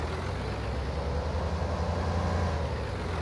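A torpedo mod vehicle from Farm Simulator 19 runs with a steady, heavy low engine drone that holds constant and fairly loud throughout, with no talking.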